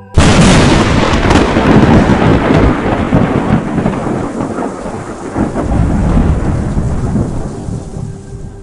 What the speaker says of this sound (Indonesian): Tiba-tiba saja petir menyambar dengan kerasnya